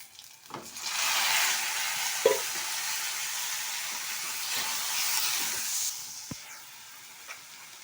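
Onions and tomatoes sautéing in a pan for a Tamil chickpea curry, a steady close sizzle and hiss with occasional stirring clinks and scrapes, no talking.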